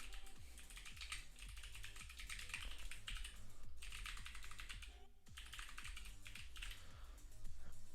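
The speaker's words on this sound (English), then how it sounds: "I am typing on this bad boy, an Atreus, Keyboardio Atreus" Steady, rapid typing on a Keyboardio Atreus keyboard with Kailh Box White switches: a dense run of close, crisp key clicks with a brief pause partway through, no voices.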